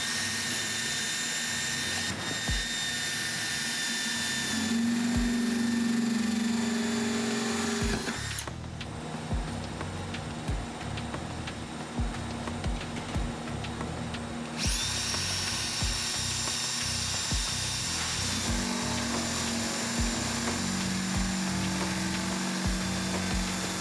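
A power drill bores holes to mount threaded nutserts for a car audio install, whining in repeated bursts of several seconds each, close and fairly loud, with short pauses between runs.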